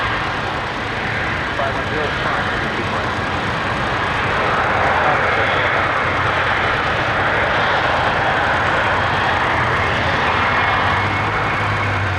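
An Air Canada Boeing 777-200LR taxis close by at Toronto Pearson airport, its jet engines giving a steady, loud roar that holds for the whole stretch, with a voice talking over it.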